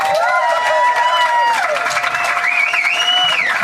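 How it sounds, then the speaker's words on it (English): A hometown crowd claps and cheers at a live climbing-festival podcast recording at the New River Gorge Craggin' Classic, a steady wash of applause with voices ringing over it throughout. "Please give it up for these guys."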